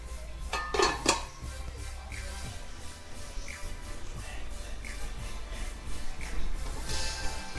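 A metal lid set onto a cooking pot of pea nimona, a couple of clanking hits near the start followed by softer clinks over a low kitchen hum.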